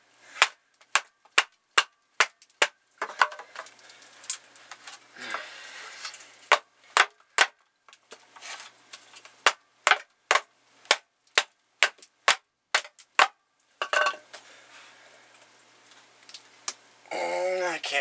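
A knife is batoned through a thin piece of wood, producing a long series of sharp, close, percussive knocks in an uneven rhythm, with a few softer scrapes between strikes.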